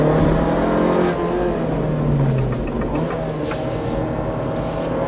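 Abarth 695 Anniversario accelerating on a track laid out around a car park, a loud close engine note rising and holding steady throughout with a hint of wind noise.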